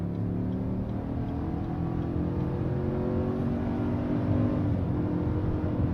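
A 2019 GMC Denali truck with a 10-speed automatic accelerating hard, its engine a steady loud low drone rising gradually in pitch from inside the cab.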